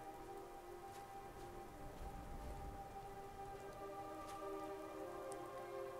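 Steady rain falls in the Skyrim video game, a dense even hiss with soft raindrop patter holding at a constant level throughout, with faint tonal game music underneath and no one speaking.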